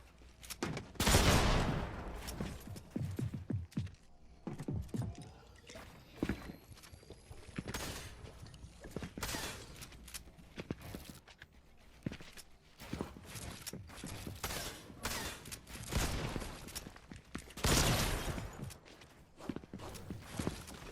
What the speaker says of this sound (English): After finally finding a pump shotgun, I know that I can finally push this guy with the feeling of a good shotgun in my hands.